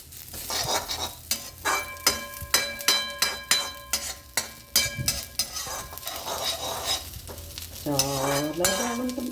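Ingredients for mint powder dry-roasting in a pan as a spoon stirs, with sharp repeated scrapes and clinks against the metal over a faint sizzle, loud and close, ending in a brief tonal rising sound.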